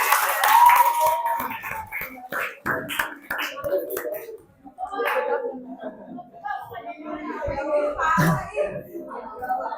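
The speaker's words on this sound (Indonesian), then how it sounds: "kita kasih tepuk tangan aja buat teman-teman yang di depan" A group of students clapping hands at the end of a classroom lesson, with sharp scattered claps in irregular bursts, fairly close, mixed with chatter and children's voices.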